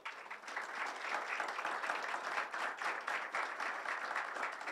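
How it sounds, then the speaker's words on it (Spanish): Sustained audience applause at a Senate session in Mendoza honoring a solar-powered music festival, steady dense clapping from a room full of people for several seconds. "un gran aplauso"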